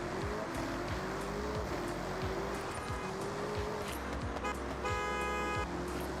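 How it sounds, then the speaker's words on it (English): Car horn honking in the Forza Horizon 6 racing game, a short steady toot near the end over continuous engine and road noise. "my horn sounds the same as yours"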